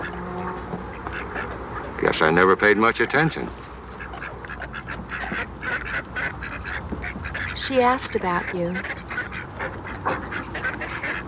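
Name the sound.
ducks and geese quacking at a bird sanctuary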